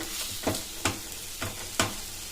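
A spoon stirs melting jaggery and a little milk in a hot pan for ragi millet sweet parathas, with four distinct scraping strokes at an uneven rhythm over a soft background sizzle, close and fairly quiet.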